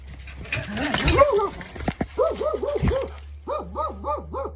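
A dog barks and yelps in quick bursts close by in a deserted village, mixed with a warbling, wavering tone and brief movement noises.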